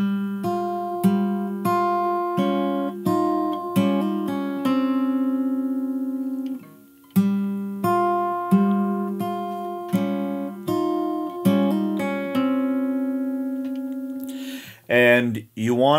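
Fingerstyle acoustic guitar plays the melody of a song, with plucked notes over ringing bass tones in a steady rhythm, close and clear, ending in a short squeaky flourish.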